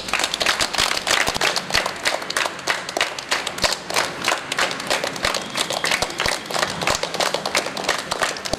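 A crowd applauds at a karate day event, sustained clapping from many people with a slightly pulsing rhythm, loud and close throughout.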